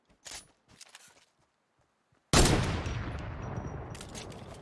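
Gunfire in a shooting video game: a few faint clicks and pops, then a loud burst of shots that keeps ringing with a decaying rumble, with no talking.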